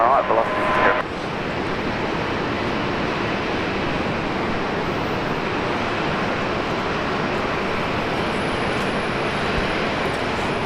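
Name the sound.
Bombardier Q400 aircraft at Brisbane Airport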